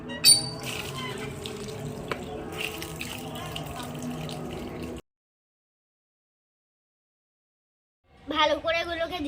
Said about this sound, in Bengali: আমি এখন ফুলকপিটাকে ভালো করে ধুয়ে নিচ্ছি।